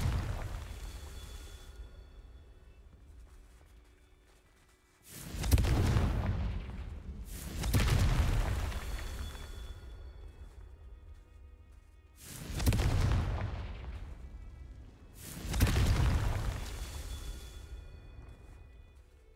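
Four booming blasts of the Confringo spell in Hogwarts Legacy, each a loud low explosion with a long rumbling decay, spaced a few seconds apart after a quiet opening.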